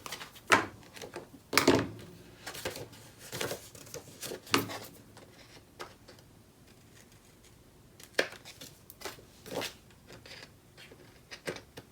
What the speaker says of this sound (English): so these will do to trim my tape.